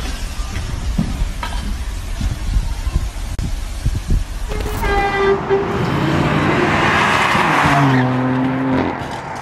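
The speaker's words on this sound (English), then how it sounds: "Crazy Porsche 911 Turbo S Cabriolet loses control before crashing into a fire" Porsche 911 Turbo S Cabriolet losing control and crashing into a fire hydrant, then flipping over: a loud engine rev and tire squeal, followed by a sharp impact, scraping and a prolonged harsh screech.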